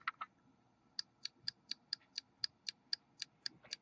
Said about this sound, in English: the trigger's a little wider and it's aluminum. And if you can hear this clicking